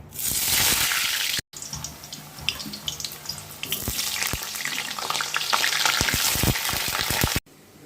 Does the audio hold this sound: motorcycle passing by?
no